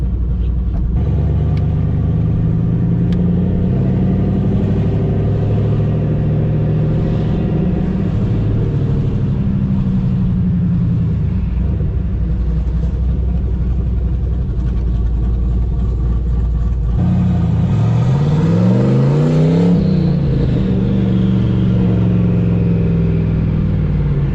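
A turbocharged Pontiac GTO drives through a downtown area, its engine droning loudly and steadily, then surging through a rising acceleration near the end. It is heard from inside the car, close and without talking.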